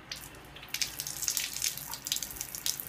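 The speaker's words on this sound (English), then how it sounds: "So we press on button and the water starts to come" Tap water runs from the faucet of an under-sink alkaline water ionizer, a KYK 66000, starting after a short quiet moment and continuing as a soft, steady hiss with small splashy surges.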